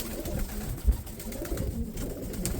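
Pigeons in a home loft before feeding: soft, low cooing from several birds, close and moderately quiet, with light shuffling and rustling around them.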